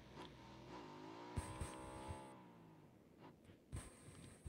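Motorcycle in PUBG, its engine revving and rising in pitch as it approaches, then fading, with sharp clicks and game effects on top.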